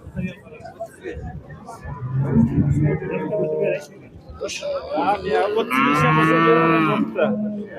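A cow lows loudly at the Beshariq livestock bazaar. One long, strong moo comes close to the microphone near the end, after stretches of people talking over market noise.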